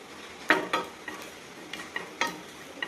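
Fish masala of coconut roasting in a pan, faint sizzling with a few sharp spoon scrapes and clinks against the pan, sparse and quiet.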